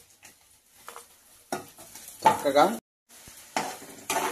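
Food frying and being stirred in a pan, with short scraping bursts and sizzle separated by brief pauses, close up, with a few spoken words.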